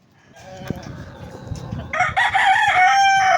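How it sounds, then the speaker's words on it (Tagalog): An Asil cross rooster crows loudly and close, its harsh drawn-out call rising in the second half after softer clucks and farmyard bird noise at the start. "So ito mga ka-farmers, yung isang manok yan, oh, may balbas."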